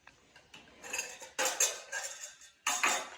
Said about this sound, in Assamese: তাৰপৰা এনেকুৱা এখন কাঁহী দিছোঁ